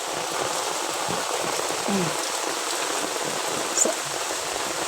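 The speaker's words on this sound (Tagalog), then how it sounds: "Sana po tumigil na ang ulan." Steady rain patters on a surface, a dense even hiss with a few louder drops standing out, during a crabbing outing; no one speaks.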